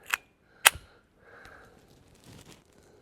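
Two quick, sharp muffled pops close by from a suppressed Taurus TX22 .22 pistol, followed by faint rustling and handling noise.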